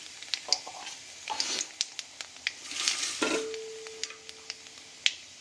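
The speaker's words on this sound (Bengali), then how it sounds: "এতে ফোড়নে আমরা দিচ্ছি শুকনো লঙ্কা আর কালো জিরে।" Dried red chillies and black cumin go into hot oil in a kadai, giving a light crackling sizzle. Sharp spoon clinks and stirring scrapes come at irregular moments and stand out over the sizzle, and no one speaks.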